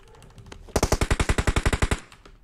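An M4 rifle firing in a video game: a rapid burst of about fourteen evenly spaced, loud, sharp shots lasting just over a second, standing alone against faint background noise.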